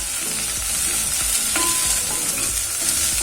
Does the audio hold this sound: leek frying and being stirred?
yes